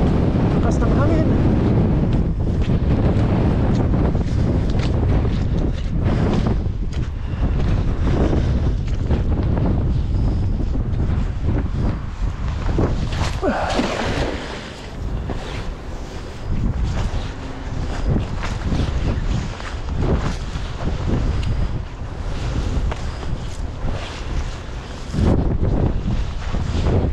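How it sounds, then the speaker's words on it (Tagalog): Strong wind at sea buffets the microphone from a small fishing boat, a loud continuous roar with gusty surges and brief dips, with speech-like sounds over it. "Lakas ng hangin."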